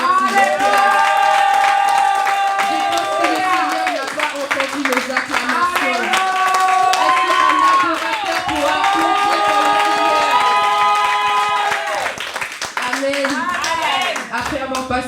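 A church congregation clapping and cheering during praise worship, rhythmic applause mixed with sustained music and voices, loud and continuous for about fifteen seconds.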